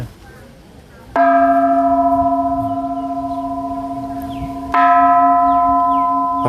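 A large temple bell is struck twice, each hit ringing out loud and sustained, its resonant tone slowly fading between strikes.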